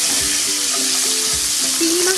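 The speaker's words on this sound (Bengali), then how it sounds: "এখন আমি এর মধ্যে দিয়ে দেব এই চিংড়ি মাছটা" Shrimp frying in a pan with cumin, a steady loud sizzle with repeated stirring and scraping strokes, no voices.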